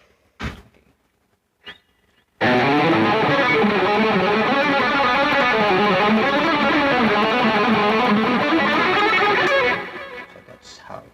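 Distorted electric guitar on the upper pickup hammers out power chords in a thick, loud, continuous wall of sound for several seconds, preceded by a couple of faint handling knocks and fading out near the end.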